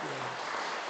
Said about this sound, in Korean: 우리 박수로 환영해 주시기